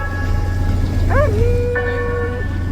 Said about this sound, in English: Stop whining like that.